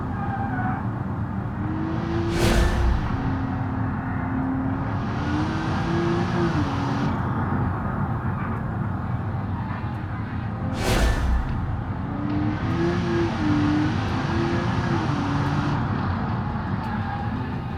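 A Rocket E-TK car lapping a track in the BeamNG driving game, engine droning steadily with rising and falling revs through gear changes, plus two sharp whooshing bursts, continuous and loud.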